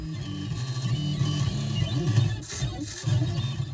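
A pen plotter draws a design on a postcard, giving a close, steady mechanical whir and buzz with shifting motor tones and short pauses as the pen moves.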